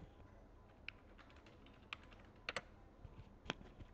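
A name is typed into a search box on a computer keyboard: a handful of sparse, crisp key clicks spread over a few seconds, quiet and close against a faint steady hiss.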